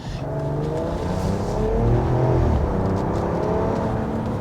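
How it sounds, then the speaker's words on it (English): A 2026 RAM 1500 Tungsten pickup truck engine revs up and pulls steadily, a low throaty drone swelling in the middle and holding strong, close by with no talking. "this truck gets up and runs just fine"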